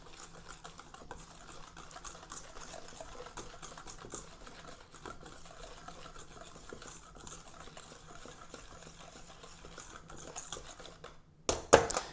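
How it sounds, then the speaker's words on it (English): Whisking coleslaw dressing made with celery salt and dried mustard, a steady rapid clicking patter of a whisk against a bowl running throughout, fairly faint, with a brief louder clatter near the end. "whisk that together"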